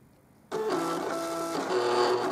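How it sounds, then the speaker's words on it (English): A Silhouette cutting machine starts up abruptly and runs with a steady mechanical whir and motor tones as it loads and recognizes the cutting mat, fairly loud and close with no talking. "So the machine is now recognizing the mat."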